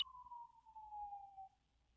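Siren from the video game Ace Attorney: Dual Destinies: a single clear, slowly descending wail lasting about a second and a half, loud and alone before fading into quiet.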